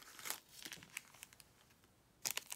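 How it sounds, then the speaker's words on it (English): Paper being cut and handled to make a double pocket paper clip: faint, soft crinkles and snips, with a quick pair of crisp cuts near the end. "I cut this one real quick."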